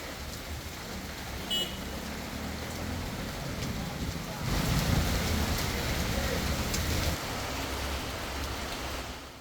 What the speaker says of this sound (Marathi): वेळातच पावसाच्या सरी बरसू लागल्या